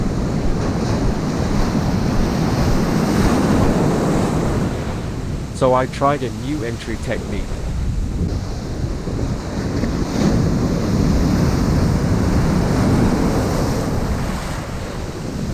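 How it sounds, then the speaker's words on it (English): Waves break hard on an island shore at a foil surf spot, a loud continuous roar of surf with wind buffeting the microphone, and someone speaks briefly over it. "The waves were breaking hard on the shore."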